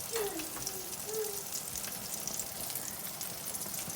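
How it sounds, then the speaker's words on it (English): Olive oil sizzles steadily as tuna patties shallow-fry in a pan, a constant crackling hiss with a brief voice murmuring at the start. "just a little shallow frying just to get some colour. You can see there, nice little sizzle going on."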